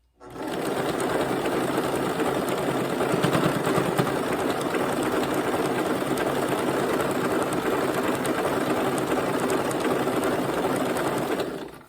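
A sewing machine runs steadily while sewing a jelly roll quilt, a fast continuous mechanical whirring and clatter held at an even level for the whole stretch, close and without talking.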